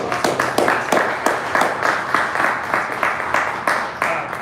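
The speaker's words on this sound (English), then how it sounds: "Linda, Cody, let's give them one more round of applause." A small audience at a Great Eastern Trail winter workshop claps at moderate volume, the individual claps landing in a fairly even rhythm throughout.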